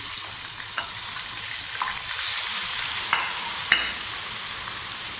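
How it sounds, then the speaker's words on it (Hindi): Steady sizzling of ginger garlic paste frying in a hot pan, a constant crackling hiss with a few small clicks and scrapes, close and fairly loud. "1 मिनट के लिए हम अदरक लहसुन का पेस्ट भी भून देंगे।"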